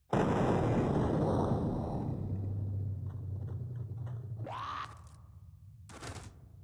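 A single 9x18 pistol round fired in People Playground, a loud sharp crack at the start with a sustained rumbling tail, followed by a couple of brief fainter impact noises afterward; no talking.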